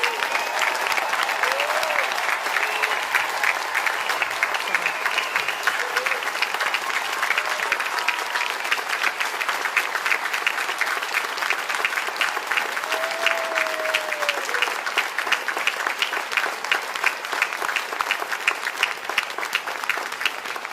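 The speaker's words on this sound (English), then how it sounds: "So will our military candidates today please stand, and a round of applause, please." Sustained applause from a large audience at a naturalization ceremony, honoring standing military candidates; dense, even clapping continues for about twenty seconds with a few faint voices underneath.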